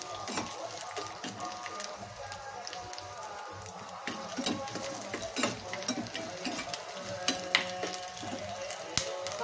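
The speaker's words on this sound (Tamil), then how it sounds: "செவந்த மாதிரி நல்லா வறுத்துக்கலாம்" Moong dal roasting in a pan, a continuous dry sizzling crackle with frequent small stirring scrapes and ticks, fairly close and steady throughout, with no speech.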